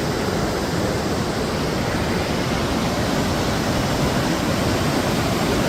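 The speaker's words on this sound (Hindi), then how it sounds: "ये देखिए पिंडर नदी" The Pindar river in the Himalayas rushes in a dense, unbroken roar of flowing water, loud and close, with no other sounds breaking through.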